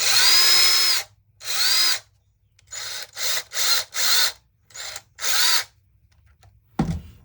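A worn Ridgid cordless drill revs in repeated whining bursts, several long then shorter ones with pauses between, close and loud, followed by a clunk at the end.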